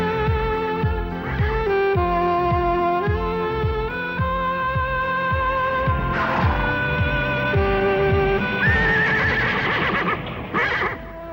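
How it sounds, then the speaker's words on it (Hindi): A horse whinnies loudly and at length, with rising and falling neighs over a steady rhythm of hoof clip-clops, close by and alone without talk. "कैसा है हमारा नया घोड़ा रॉकी?"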